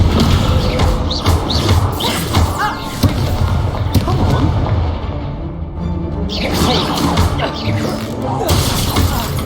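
Hogwarts Legacy spell combat with an Incendio fire spell cast amid other game effects, dense crackling bursts and whooshing impacts over steady music and battle noise, with game voices speaking.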